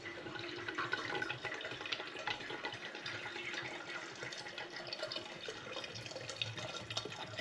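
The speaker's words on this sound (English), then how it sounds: "I'm literally going to pour water now over the top of the fruit and let it wash out any more flavour and goodness that's in there" Water pours steadily over gooseberries, blackcurrants and other garden fruit for homemade wine, a faint continuous splashing trickle heard alone throughout.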